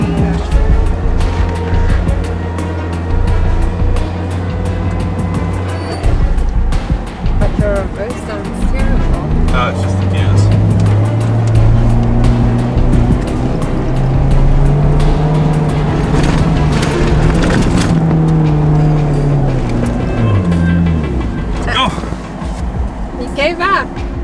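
A Suzuki Jimny stuck off-road on safari revs and strains, its engine droning loud and close with a long rising and falling whine, while people talk over it.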